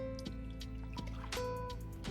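Liquid is poured into a container in a quiet indoor drink-making setting, giving soft, close trickling and dripping under a steady background hum.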